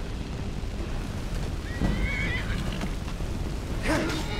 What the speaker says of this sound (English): Oh, this horse has a lot of health.